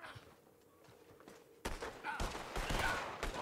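Gunshots in a Red Dead Online duel, a quiet lull broken by a sudden loud shot followed by several more shots and impacts in a quick burst, near and sharp.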